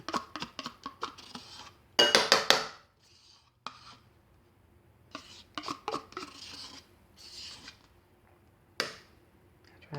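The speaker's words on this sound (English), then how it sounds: "I try to scrape as much as I can out because I want all of my good stuff in here." Food is scraped out of a container into a bowl during meal prep, with scattered short scraping and tapping strokes in bursts, close and fairly quiet, separated by pauses.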